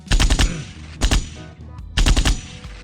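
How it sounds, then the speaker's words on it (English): Gunshot sound effect from a MAONOCASTER lite AU-AM200 podcast mixer, three loud bursts of rapid shots, each a quick volley of several sharp cracks, with short gaps between them. "next is the gunshot"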